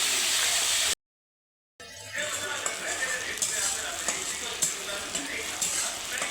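A paste of onion, garlic and ginger sizzles and hisses in a frying pan after a brief silent gap, with stirring scrapes and small clatters through a steady crackle.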